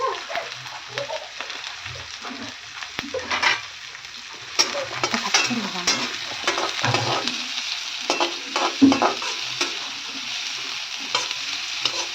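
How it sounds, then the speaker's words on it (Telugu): A large chopped onion sizzles steadily in a hot pan, with a spoon stirring and scraping against the metal in irregular strokes, close and continuous without talk. "ఇప్పుడు ఒక ఉల్లిపాయ అండి, పెద్ద ఉల్లిపాయ వేస్తున్నాను."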